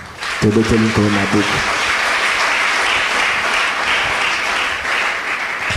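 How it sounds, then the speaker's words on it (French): A church congregation acclaims the Lord with loud, sustained applause and cheering that fills the room, while a voice calls out briefly near the start. "Acclamons le Seigneur."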